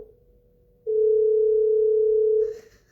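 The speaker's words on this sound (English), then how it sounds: "phone ringing" A phone rings through a computer as one steady electronic tone held for about a second and a half, loud and close, after a fainter lead-in tone, then fading into quiet.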